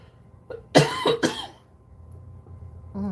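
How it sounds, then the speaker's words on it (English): A couple of sharp, close coughs in quick succession, followed by quiet and a faint sound at the end. "That cough does not want to go away."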